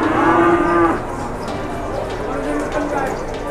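Cattle and young calves mooing at the Boyolali cattle market, a loud drawn-out moo up front followed by fainter lowing and a busy crowd murmur in the background.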